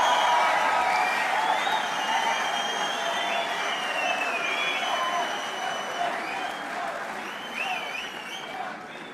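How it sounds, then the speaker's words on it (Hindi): An Indian community audience in Germany claps loudly and continuously, with scattered whistles and cheers on top, and the applause gradually eases off over several seconds. "तालियां तो अब बजने वाली है"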